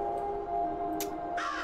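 A crow caws in the video game Root of the Evil: The Tailor, a short harsh call ringing out over a steady droning ambient tone, with a second bright burst near the end.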